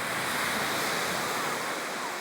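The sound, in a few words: ocean waves at Somi beach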